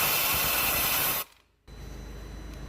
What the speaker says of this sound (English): I did squirt a tiny bit of brake cleaner down the injector bores